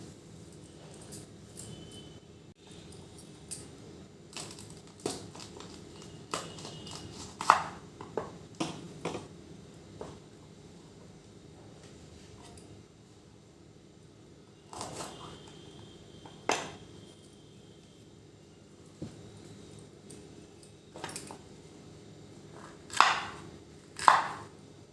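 Fresh coriander leaves are cut with a knife on a board in a home kitchen, giving scattered soft taps and chops at irregular intervals, fairly quiet, with some talking between them.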